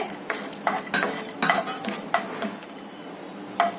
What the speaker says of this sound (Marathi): ते गरम झालं की आपण ड्रायफ्रुट्स भाजून घेऊया।